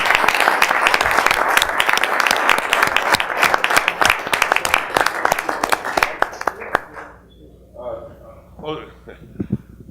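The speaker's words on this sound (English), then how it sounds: "Let's have a round of applause." Applause at a township committee meeting honoring a varsity football team: several seconds of dense, lively clapping that thins out and stops, followed by a voice starting to speak.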